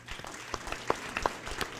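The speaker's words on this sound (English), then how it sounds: "give them another round of applause" Audience applause at a school board meeting, irregular clapping at moderate level with scattered sharper individual claps, fairly distant and steady for the short span.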